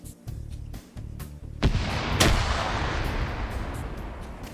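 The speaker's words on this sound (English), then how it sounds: "Grenade gets thrown out." A grenade going off in the military shooter Arma 3, a sharp loud blast followed by a second crack and a long rolling rumble that fades slowly, after a few quieter thumps.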